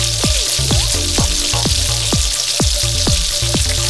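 Fried okra tossed into a pan of softened onions, garlic and chili for a Southern-style bhindi, giving a loud, steady sizzle and crackle of hot oil with periodic stirring clatter throughout, no talking.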